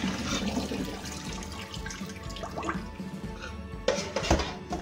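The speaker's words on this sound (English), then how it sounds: "So I'm just going to throw the water out." Soaking water from a bowl of salt mackerel is poured out into a sink, a continuous splashing, gurgling flow close by that ends with a few heavier splashes and drips.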